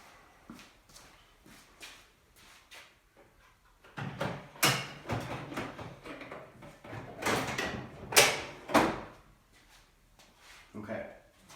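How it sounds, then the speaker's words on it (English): A drawer slides into an IKEA kitchen cabinet being customized as a bathroom makeup vanity. Several sharp knocks and sliding clunks come in bursts, close by, with speech around them. "Now let me throw the drawer in there for you just so you can see what's going on."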